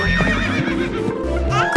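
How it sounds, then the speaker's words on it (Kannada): Horse-drawn cart sets off right after a whip crack, with a horse whinnying and neighing loudly up close over a brief clip-clop of hooves and low rumbling wheels. "ಚಾವಟಿ ಬೀಸಿದ ತಕ್ಷಣ ಸರ್ರೆಂದೋಡುವ ಕುದುರೆ ಗಾಡಿ"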